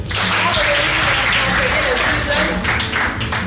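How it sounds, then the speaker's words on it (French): Loud, dense applause from a crowd, sustained clapping throughout with no break. "Professeur, on l'applaudit."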